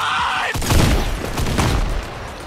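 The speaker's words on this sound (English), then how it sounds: "That's why I picked the hunting rifle." Gunfire from a hunting rifle in Fortnite on Nintendo Switch, with a sharp blast followed by a rumbling boom and scattered shots in a busy game mix, no talk over it.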